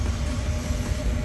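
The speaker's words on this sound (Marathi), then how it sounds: "हां तर ती युरो सिटीची ट्रेन आहे, तिने आम्ही जाणार आहे" Rumble of a EuroCity passenger train bound for Antwerp, Belgium, a steady low rail drone close by with no distinct clicks or voices over it.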